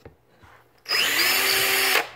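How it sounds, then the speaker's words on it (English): A power drill boring a hole to mount a TV panel, running as one steady, loud, close whine for about a second after a brief quiet lead-in. "so we have our three holes drilled"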